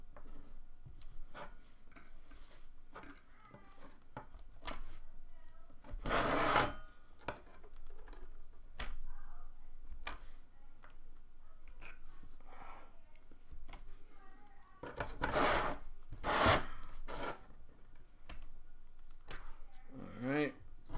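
Scraping and rasping of a trimming tool cutting into the clay base of a handmade mug, a steady rough rub with a few louder sharp scrapes, close and fairly quiet.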